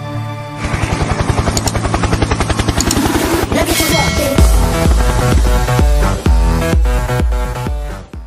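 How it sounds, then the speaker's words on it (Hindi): A cartoonish helicopter sound effect arrives with a steady rapid rotor chop that grows louder, then gives way to a jumble of other effects and musical tones. No one speaks. "हेलीकॉप्टर तो आ गया"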